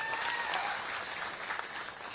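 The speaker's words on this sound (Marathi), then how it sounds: "जोरदार टाळ्या वाजवा" A crowd at a political speech event in Sangola claps together in sustained, even applause, heard at moderate distance with no talking over it.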